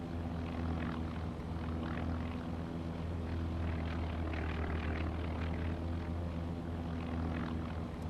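A Fairey Swordfish biplane's propeller engine in Task Force Admiral drones steadily, a continuous loud low rumble with layered harmonic tones and light rhythmic flutter, holding an even level throughout with no voices.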